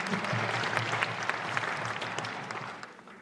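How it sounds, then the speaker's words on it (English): Holiday pops concert audience applauding the Brockton Symphony Orchestra, many hands clapping in a full hall with a faint murmur of voices underneath, tapering slightly toward the end. "Brockton Symphony, give them a round of applause"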